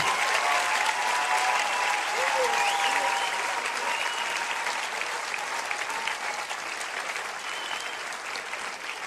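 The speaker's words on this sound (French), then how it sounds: "On les applaudit encore une fois." A church audience applauds after a choir performance, sustained clapping that fades slowly, with a few voices speaking over it.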